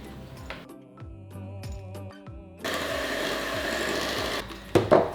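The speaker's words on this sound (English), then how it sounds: "You don't have to use a hand mixer, Holly, but I did want it to be a bit light" A hand mixer beats blondie batter with eggs for chocolate puffed-rice marshmallow blondies, starting with short whirring bursts and then running in a steady loud drone, with a clatter at the end.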